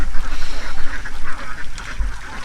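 A flock of ducks on a Philippine duck farm quacks continuously and loudly close by, overlapping calls with no talk.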